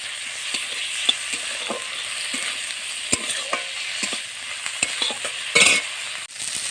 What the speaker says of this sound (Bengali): চিংড়ি মাছের মধ্যে একটু হলুদ আর অল্প পরিমাণে আমি লবণ দিয়ে ভালো করে আমি ভেজে নেব